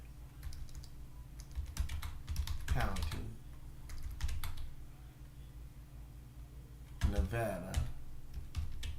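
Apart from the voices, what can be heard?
typing on a computer keyboard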